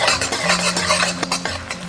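Sugar syrup bubbling over low heat in a wok while being stirred, giving a steady close scraping and stirring texture with soft bubbling beneath, no voices.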